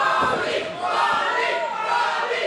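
A live crowd at a wrestling show roars and cheers continuously, a loud, dense wall of voices with swelling shouts that never drops away.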